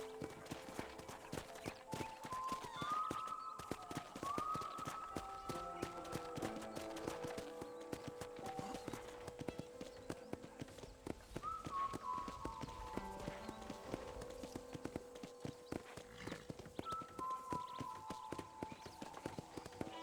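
Steady clip-clop of horse hooves at a walking pace in the video game Red Dead Redemption runs throughout, with sweeping musical tones layered over it and no talking.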